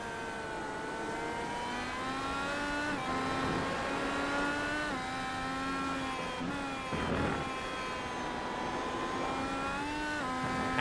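An IndyCar race car in the iRacing sim at Mid-Ohio, its engine droning loudly and steadily as it accelerates and shifts through gears, with a brief tire scrub midway.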